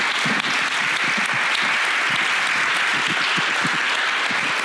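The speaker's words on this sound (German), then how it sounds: "deswegen bekommen Sie Ihren Koffer und einen großen Applaus" Audience at a science discussion event in Bonn gives steady, dense applause, many hands clapping continuously at close range without voices.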